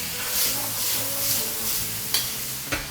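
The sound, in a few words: stir-frying onion and green and red pepper strips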